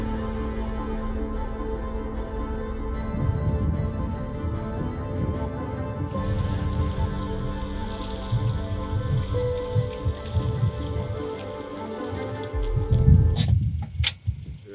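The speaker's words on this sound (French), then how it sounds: "J'espère que la pluie va s'arrêter." Steady rain pattering on a converted camper car, with soft ticking drops and a low background hum, continuing throughout.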